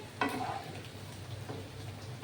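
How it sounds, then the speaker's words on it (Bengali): Coconut and peanuts fry in a wok while being stirred, with a low steady sizzle broken by a couple of scraping stir strokes. "এভাবে নেড়ে নেড়ে ভাজা করতে হবে"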